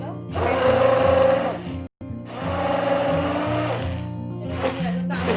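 An electric hand blender whirs close by, whisking curd thinned with water, in two long bursts separated by a brief pause, its motor steady and buzzing.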